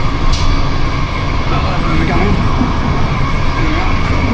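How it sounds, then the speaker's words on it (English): Steady, loud rumble and rattle inside a moving passenger train running from Prague through Ostrava toward Krakow, with a constant low roar of wheels on track and a brief spoken question over it. "Well, we're on the train"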